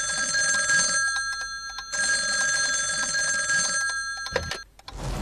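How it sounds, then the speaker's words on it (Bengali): A telephone bell rings in a cartoon, two long bursts of bright electronic trilling separated by a short gap, loud and clear, then cutting off into a brief click and rustle. "এত সকালে আবার কে ফোন করছে?"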